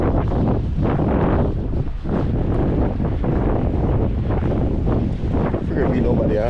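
Strong wind roars constantly across the microphone at a fishing spot, a thick low rushing noise that masks everything else.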